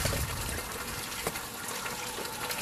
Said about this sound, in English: rinsing out our pot